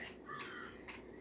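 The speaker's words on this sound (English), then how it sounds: "Oh my god, there's a crow." A crow in the Roblox video game gives two short, rasping caws close together, fairly faint against quiet game background.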